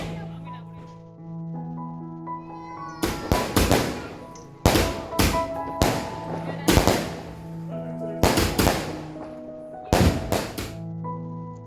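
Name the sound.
poondu vedi (garlic bomb) firecrackers exploding during Diwali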